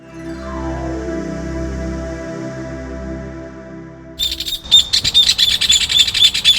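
Dense, rapid bird chirps and calls burst in after a few seconds of a low steady hum, continuing busily and fairly close to the end.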